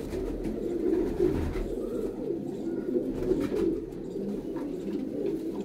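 Pigeons coo softly in a repeating, low, rolling rhythm at a breeder's loft, continuous and moderately close, with no voices.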